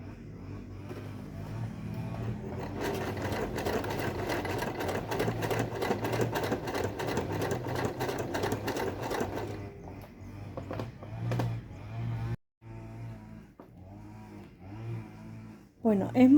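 A sewing machine stitches a seam on a button-front blouse, running in a loud steady whir for several seconds, then slowing into shorter bursts and pauses, with someone speaking over part of it.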